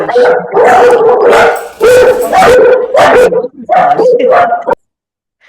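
A dog barks loudly and close in a rapid string of sharp yips and barks, with brief pauses between bursts before falling quiet.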